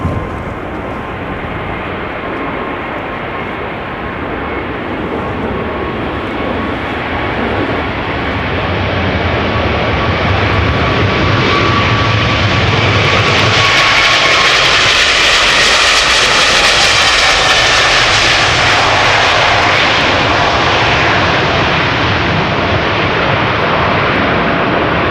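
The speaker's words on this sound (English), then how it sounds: "KLM flight 743 going to Lima in Peru. 777-300 11 years old, first flight made 2013." A KLM Boeing 777-300, in service since 2013, departs Amsterdam Schiphol for Lima with a loud, close engine roar that builds and swells to a powerful peak as it passes, then stays strong and sustained.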